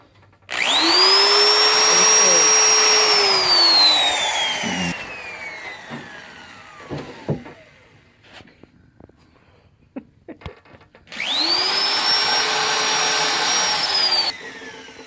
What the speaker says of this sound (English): right now we're countersinking the holes